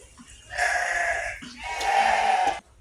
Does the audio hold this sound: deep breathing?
no